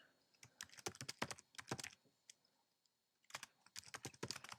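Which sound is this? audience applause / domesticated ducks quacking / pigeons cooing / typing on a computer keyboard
typing on a computer keyboard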